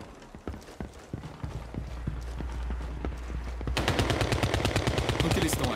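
Rapid gunfire in the CrossfireX campaign, a steady rattle of shots that thickens into dense, fast bursts partway through, mixed with mechanical clatter and game ambience.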